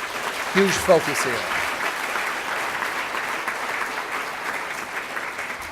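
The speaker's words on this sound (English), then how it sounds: "Please give the mayor another round of applause for his huge" A hall audience gives the mayor a sustained round of applause, a dense, steady wash of clapping that fills the whole stretch, with a brief voice speaking near the start.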